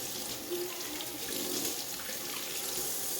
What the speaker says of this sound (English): So I'm gonna wash my chef knife real good.